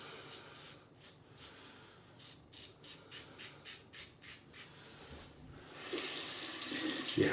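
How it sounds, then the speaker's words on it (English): Running tap water rinses a Wilkinson Sword Classic double-edge razor fitted with a Feather blade, the flow broken into short repeated splashes as the razor passes under, then a steadier, louder gush toward the end. "This is why I get into the habit of rinsing razors."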